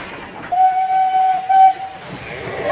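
A train whistle blows in two close blasts, a long steady tone followed by a shorter, louder one, over a low rumble of the train on the tracks.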